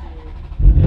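A 2005 Ferrari F430 Spider with about 19,663 miles starts up, a brief crank catching into a loud, close engine burst at the very end.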